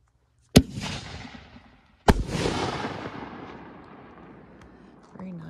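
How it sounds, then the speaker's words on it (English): Two loud, sharp reports from a Pro Fireworks Black Diamond Neon Super Can canister shell, a blue shell, the second blast breaking into a long crackling, hissing tail that trails off, with a voice briefly at the end. "We're going to start out with the Neon Super Can by Pro Fireworks Black Diamond. First shell is blue."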